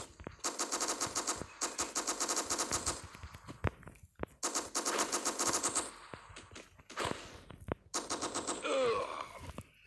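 Rapid automatic gunfire in the CopNRobber video game, loud bursts of machine-gun fire in several long strings with short gaps, ending in a ricochet-like whine.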